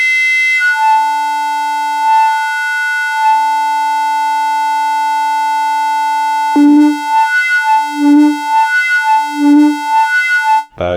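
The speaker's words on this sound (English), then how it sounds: "You can hear the LFO changing the filter in time" Synthesizer tone with an LFO sweeping the filter, a sustained bright harmonic drone that swells rhythmically, slow at first, then in faster, louder pulses, ending with a sharp burst.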